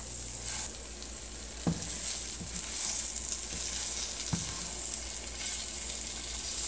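An egg fries with no oil in a Red Copper nonstick pan, a steady bright sizzle throughout with a couple of soft spatula scrapes, close and unaccompanied by speech.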